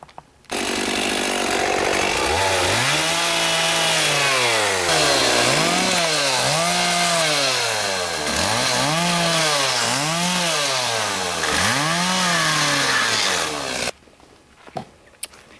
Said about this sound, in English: we're going to run the chainsaw along all the bits of the stickers that are sticking out